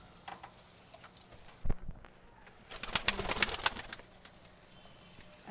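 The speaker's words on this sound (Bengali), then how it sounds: "এই দেখুন আমাদের পায়রা, যেমন কত পায়রা আছে।" Pet pigeons in a home loft give soft, low coos with a brief flutter of wings. A denser burst of cooing and rustling follows, all quiet and near.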